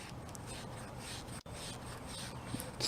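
Steel wool scrubbing a carburetor bowl wet with carburetor cleaner on a Honda Troy-Bilt self-propelled mower, a quiet close rasping rub in continuous strokes with a brief pause midway.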